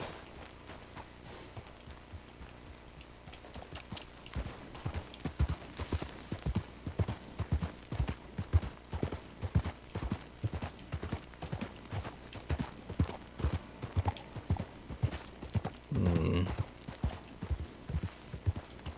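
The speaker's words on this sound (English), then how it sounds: "So, one lone black horse." Hooves of a lone black horse in a Red Dead Redemption II game clip-clop at a steady walking rhythm, clear and close for the whole stretch, with a brief louder snort or rustle near the end.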